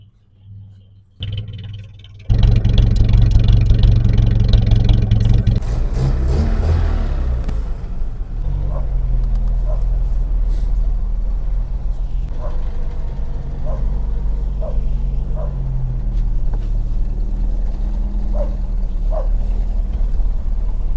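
A Volga GAZ-24 car engine starts up and then idles steadily as it warms, a loud, close, continuous rumble with small rises in speed. No one speaks.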